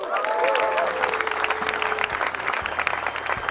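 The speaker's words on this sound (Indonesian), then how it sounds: "Tepuk tangan." Audience at a televised Indonesian stand-up comedy show claps loudly and continuously, a dense wash of hand claps with brief faint voices mixed in.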